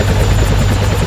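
Helicopter sound effect with a steady, loud rotor chop and low engine rumble, continuous and close throughout, no talking.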